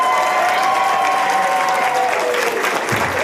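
Colleagues applaud the prime minister as he returns to the seat of government after a robust Conservative election victory, a loud, steady wash of clapping that fills the whole span without a break.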